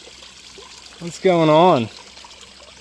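A slowed backyard pond waterfall fed through a bog filter trickles as a steady, soft wash in the background while a person briefly speaks over it.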